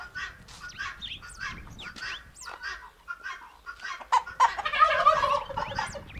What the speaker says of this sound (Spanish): Vamos a largar las gallinas acá.